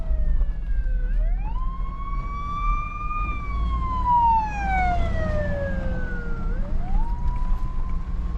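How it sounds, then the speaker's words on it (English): A police car siren wails past along a road, its tone sweeping up and down in long, loud cycles over the hum of traffic. "There's a cop."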